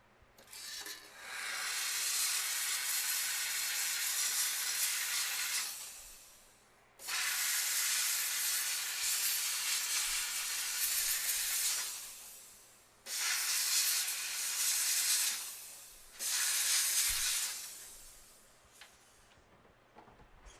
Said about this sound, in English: I'm trying to get the wax off. I'm going to steam this off,